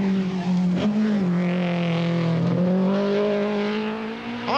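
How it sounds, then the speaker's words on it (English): A black Opel Manta rally car is driven hard on a 1986 Circuit of Ireland rally stage, its engine howling loud and close, pitch dipping and rising through gear changes and throttle lifts, with no voices. "the Dubliner flings the black Manta around with gay abandon"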